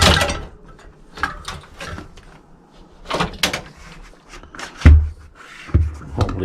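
Tubeless valve being fitted into a bicycle wheel rim with a Muc-Off kit, heard as scattered close-up clicks, taps and scraping handling noises with short thuds, nobody speaking.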